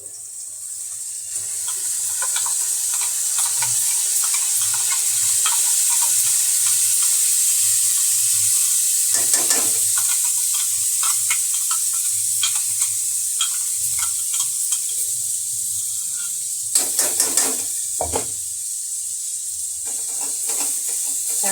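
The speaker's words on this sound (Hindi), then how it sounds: "सारा मसाला मैंने डाल दिया है इसमें। अभी देखो ये खूब भुनेगा बढ़िया से।" Onions and spice masala for a fish curry fry loudly in a pan, a steady dense sizzle with intermittent stirring scrapes and a few sharper crackles near the end.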